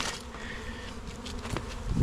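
Honey bees swarm around a hive during a beekeeping rescue, a close, continuous droning buzz with wavering pitch as individual bees pass near, plus a few soft bumps and rustles toward the end.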